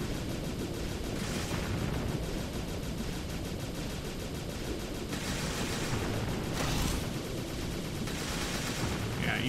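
Rapid, dense gunfire from shooting in the Sine Mora EX video game, a steady continuous barrage of shots with brighter bursts layered over it throughout.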